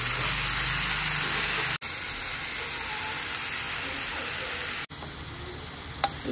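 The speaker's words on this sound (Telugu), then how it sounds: "తర్వాత పుదీనా, కొత్తిమీర కొంచెం ఆయిల్ వేసి వేయించుకోవాలి" Mint leaves and coriander frying in a little oil in a pan, a steady close sizzle that runs continuously, broken by two brief cuts, with a faint clink near the end.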